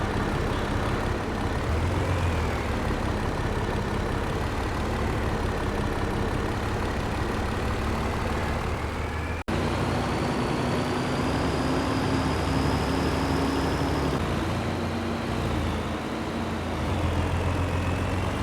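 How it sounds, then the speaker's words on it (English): A heavy truck engine in a video game idles in a steady low rumble, with a thin turbo whistle running above it and no voices. "This old engine making a fine noise."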